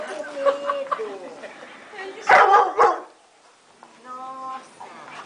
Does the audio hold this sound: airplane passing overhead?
no